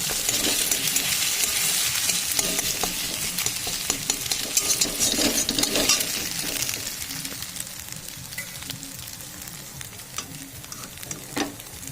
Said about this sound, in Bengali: আমি আগে একটু ডিম ভেজে নেবো কড়াইয়ে